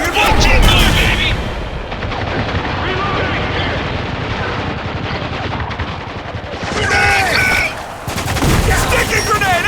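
Constant loud gunfire rattles through a firefight in the war shooter Spec Ops: The Line, with dense automatic bursts and booms throughout while soldiers shout over it.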